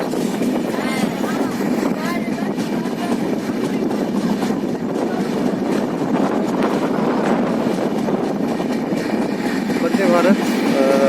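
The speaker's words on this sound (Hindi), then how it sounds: "देखिए, चलते रास्ते के बीच में वंदे भारत की क्रॉसिंग।" A Vande Bharat train rushes past a railway crossing on a rural road, loud continuous roar and rattle of wheels and carriages close by, with someone talking over it.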